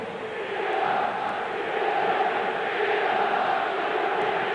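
Roar of a crowd of more than 80,000 at a Sunday-night Inter versus Milan Serie A derby in 2001–02, a steady wide wash of cheering noise that holds loud and unbroken throughout.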